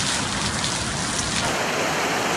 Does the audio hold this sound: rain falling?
yes